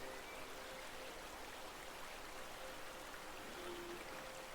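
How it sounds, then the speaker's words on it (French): A river murmurs softly and evenly, a faint, unbroken wash of flowing water with no other sounds standing out. "Laissez le murmure de la rivière glisser en vous."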